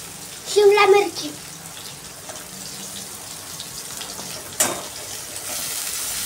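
Sliced bell pepper stir-frying in a pan for noodles gives a soft, steady sizzle with a few clatters from stirring, while a voice speaks briefly over it near the start.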